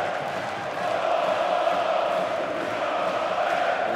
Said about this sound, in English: Crowd are on their feet in the hall.